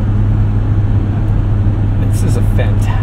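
An original 1986 BMW 325e on the move, heard from inside the cabin as a steady, loud low engine and road drone, with a few brief higher rattles near the end.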